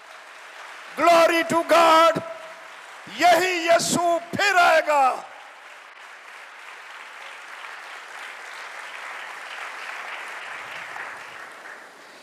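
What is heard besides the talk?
congregation applause for Jesus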